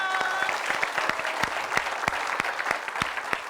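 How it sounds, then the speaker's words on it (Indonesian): An audience at a comedy game show claps after a contestant's failed attempt, with irregular sharp hand claps ringing out steadily through a lively room. "Tapi kita kasih tepuk tangan dulu dong."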